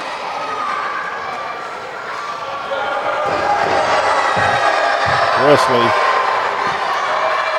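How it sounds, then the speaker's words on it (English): Raucous crowd at a live wrestling event cheering and roaring steadily throughout, with an announcer talking over it and a few thumps from the ring. "Listen to this raucous crowd."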